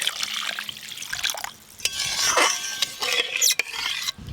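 Water poured into a pan of hilsa fish tapka jhal curry with ground spice paste, slit green chillies and salt; a close, steady splashing and trickling runs throughout with a few brief clinks.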